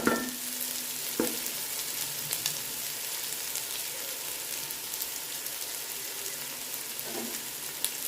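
Vegetables sautéing in a pan for vegetable brinji, a steady soft sizzle throughout with a few brief utensil clinks, close and fairly quiet, no talking.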